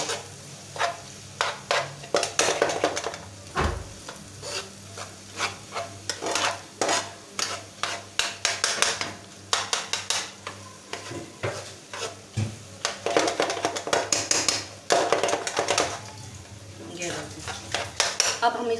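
Egg and onion bhurji being mixed in a pan, spatula scraping and clattering in a steady rhythm of repeated strokes over a light sizzle, close and fairly loud throughout.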